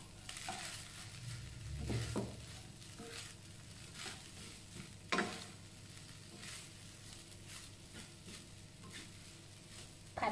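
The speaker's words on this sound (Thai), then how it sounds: "ผัดสุกผสมให้เข้ากันเลยค่ะ" Rice and beef stir-fry in a pan for beef fried rice, a quiet, fairly steady sizzle with intermittent spatula scrapes and soft tossing thumps, one stronger bump midway.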